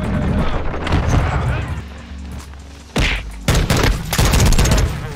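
Gunfire in Call of Duty: a burst of loud, sharp shots stops near the midpoint, then more heavy shots and booms follow, with a person talking over the game.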